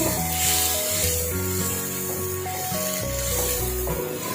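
Mutton liver masala sizzles and fries steadily in a hot pan, a continuous close hiss layered with a sustained tonal background that runs without pause.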